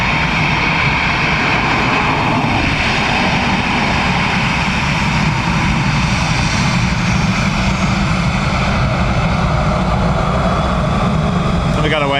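A Ryanair airliner lands on runway 28 left at Dublin Airport, its engine roar loud, broad and sustained throughout.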